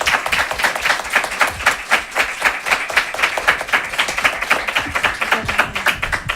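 An audience at a psychology and coaching conference claps after a talk, a close, fairly loud burst of quick rhythmic clapping that stays steady throughout.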